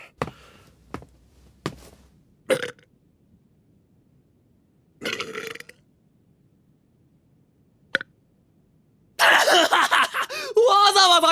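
A man burping in a Japanese drama CD, several short throaty bursts separated by silence, followed by louder vocal noise near the end.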